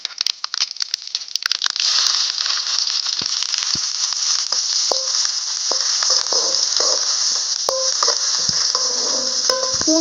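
Onions drop into hot oil with mustard seeds for a dried fish thokku, setting off a loud continuous sizzle with scattered crackles and pops, close and steady throughout.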